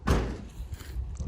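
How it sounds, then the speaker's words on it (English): A door on a Mark II Golf swinging shut with a single heavy, close thud that rings briefly before fading into low rumbling noise. "Alright, door."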